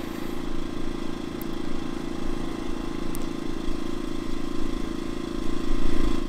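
A CAT INV2000 inverter generator running in eco throttle mode, heard from about 15 feet away as a steady, moderate drone with a constant low hum and light clatter throughout, no voices over it.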